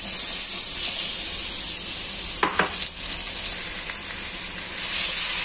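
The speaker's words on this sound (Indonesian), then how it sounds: "Tumis mangga sebentar dulu." Mango slices stir-frying in hot oil in a wok, a continuous bright sizzle with a couple of brief scraping stir strokes near the middle.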